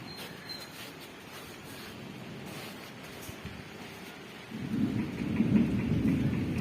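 Monsoon-season rain in the Konkan near Sawantwadi falls steadily with low rolling thunder and some wind, the downpour swelling noticeably louder in the last couple of seconds; distant and fairly soft overall, no voices.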